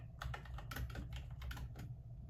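Clacky keystrokes on a Josef mechanical keyboard's keycaps, typed in quick uneven bursts, close up, with a faint ringing tail after each press over a low background hum.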